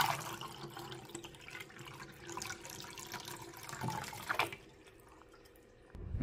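Water pours in a steady splashing stream into the top of a countertop ice maker, continuing for a few seconds before stopping abruptly, with the machine's hum remaining afterward.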